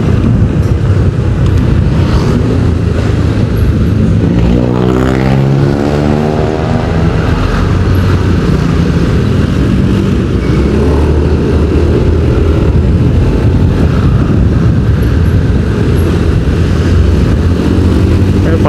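Motorcycle riding solo along the Banjaran–Pangalengan mountain road near Bandung, its engine droning loud and steady throughout with a rising then falling pitch sweep midway, wind roar mixed in.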